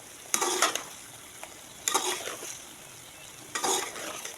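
Three soft, brief scraping strokes of a spoon gently folding yogurt into fried eggplant in a pan, separated by quiet pauses.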